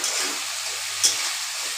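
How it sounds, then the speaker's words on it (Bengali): Paste of ginger, garlic, onion and chili frying in a pan for potato curry, a steady broadband sizzle held at even loudness with one brief louder crackle midway, no voices. "এখন আমি আদা রসুন পেঁয়াজ বাটা লঙ্কা বাটা দিয়ে দিলাম।"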